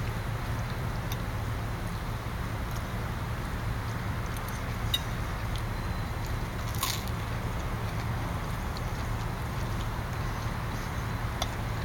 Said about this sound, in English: you can probably hear me crunching